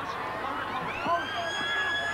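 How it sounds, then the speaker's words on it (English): A halftime siren sounds at a 1992 rugby league match between Canberra Raiders and Manly Sea Eagles, a rising wail under a commentator's voice and crowd noise. "The siren goes."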